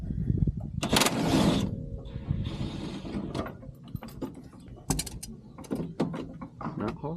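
Ratcheting and clicking of a 17 mm socket tightening a sway bar on a Honda Talon side-by-side, a series of short metallic bursts and clanks close by, with a brief whirring stretch early on.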